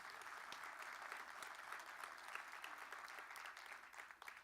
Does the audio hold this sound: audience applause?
yes